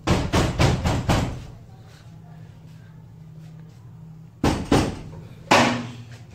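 Knocking and banging on doors from inside rooms, heard as clusters of sharp rapid thumps, a burst of five at the start and two more later, separated by a quieter stretch with faint background hum.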